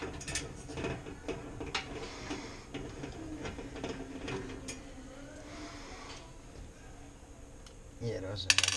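Screws being driven with a magnetic screwdriver while replacing a valve on a GE countertop stove, a run of close mechanical ticking and ratcheting clicks, steady and moderately loud, ending in a sharper burst of clatter.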